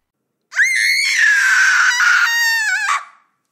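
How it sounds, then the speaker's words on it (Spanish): A girl lets out a single piercing, high-pitched scream, sustained for over two seconds with a wavering pitch and a sharp rise at the end, loud and isolated against silence as a horror sound effect. "Charlotte consiguió lanzar un grito desgarrador."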